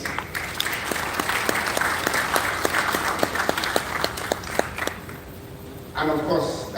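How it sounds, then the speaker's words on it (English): A hotel audience at a real estate outlook event gives a loud burst of applause that holds through a rhythmic stretch of claps, then thins out as a voice begins talking near the end. "I want a round of applause for him"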